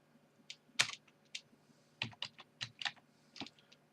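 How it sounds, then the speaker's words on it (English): Password being typed on a computer keyboard while setting up a user on a Linux server: a few scattered, close, crisp key clicks in short irregular bursts, with brief pauses between them and no talk. "you need to type the password"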